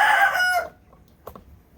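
Chickens in a winter coop holding 18 hens, a loud crowing call that breaks off sharply, then a short pause and a pair of quieter clucks.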